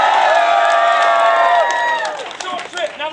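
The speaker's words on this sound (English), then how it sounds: "and the crowd goes crazy" A theatre crowd at Epcot's Italy Pavilion cheers and whoops loudly and continuously, with shrill shouts and scattered clapping that thin out toward the end.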